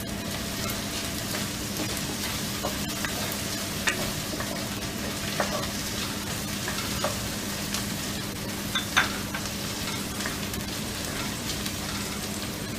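Red chilies sizzle in hot oil with green vegetables for Sarson Da Saag, a steady crackling fry with occasional sharp clicks of a spoon stirring the pan, fairly quiet and without talk.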